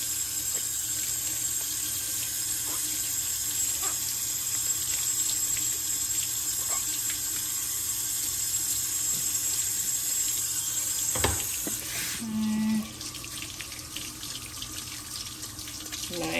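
Hot water runs steadily from a tap into a sink, a constant loud hiss that goes on unbroken for the whole stretch, with a brief clunk near the end.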